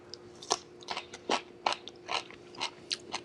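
Repeated crisp crunching bites and chewing of a garlicky refrigerator pickle, about a dozen sharp crunches in an uneven rhythm, close up and clear with no talking.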